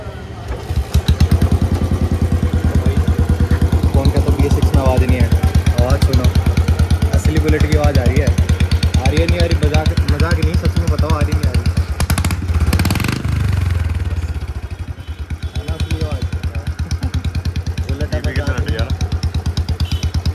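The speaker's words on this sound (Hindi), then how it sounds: "मेरी बुलेट की आवाज़ ऐसी आ रही इतनी तेज़" A Royal Enfield Bullet 350 runs with its silencer removed, its single-cylinder exhaust hammering out a loud, rapid, unbroken thump close by, with a voice talking over the engine for much of it.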